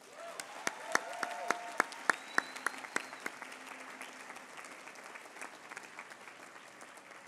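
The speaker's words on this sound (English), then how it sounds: "how about a big round of applause for all of our student speakers" An audience at the Harvard Medical School Class Day 2017 ceremony applauds student speakers, a loud burst of dense clapping with crisp individual claps early on that gradually thins and softens.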